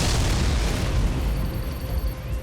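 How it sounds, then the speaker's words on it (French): A heavy explosion aboard the spaceship Excalibur in a French-dubbed action science-fiction film, a loud sustained booming rumble that fills the whole clip with crackling debris noise, no talking. "il y a eu une explosion à bord de l'Excalibur"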